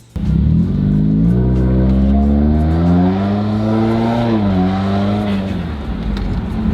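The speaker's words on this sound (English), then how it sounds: "It makes fun turbo noises!" A turbocharged Subaru WRX with the FA20 engine accelerates hard, its loud, steady engine note climbing in pitch through the pull with turbo whoosh, continuous and close throughout.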